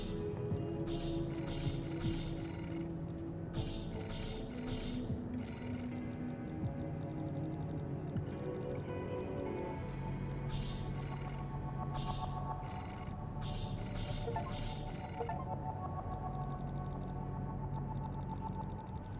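Rapid mechanical ticking and clicking bursts from OS tuning upgrades in the mech video game Armored Core VI, repeating in quick irregular clusters over a steady low menu hum throughout.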